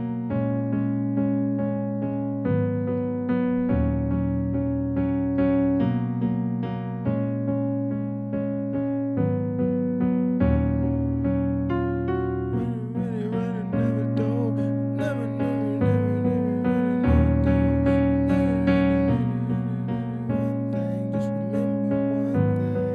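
Piano chords ring out in a slow, sustained progression, each held before the next, with a brief melodic run partway through; no voice.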